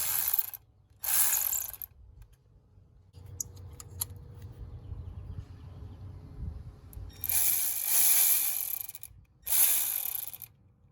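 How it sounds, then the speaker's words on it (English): Ratchet loosening the bolt holding a metal pipe to the thermostat housing of a 2002–2006 Nissan Altima 2.5L, bursts of rapid close clicking separated by pauses with quieter mechanical fiddling between. "once we have removed the bolt that holds that metal pipe against this thermostat housing"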